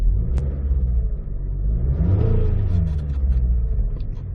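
A 2007 Chevrolet Impala SS, with its engine light on, runs steadily at a dealer auction, a loud continuous low rumble with a slight rise in pitch midway and no talk over it.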